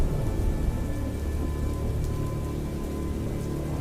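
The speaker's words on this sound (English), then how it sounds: "The sound of rain poured heavily over the city" Heavy rain pours steadily over a city in Malang, East Java, with a dense, continuous hiss of drops hitting surfaces and a low rumble underneath. No voices are present.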